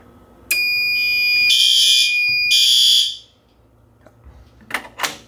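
A fire alarm sounds after a heat detector trips during testing of a fire alarm system with generator emergency shutdown: a loud, steady electronic tone with several sustained horn-like pulses for about three seconds, followed by quieter clicks and faint handling noise.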